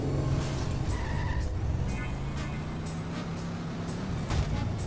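Car skidding with tire squeal and a crash in The Simpsons Hit and Run video game, a continuous engine roar over game sound effects throughout, with a brief louder hit near the end.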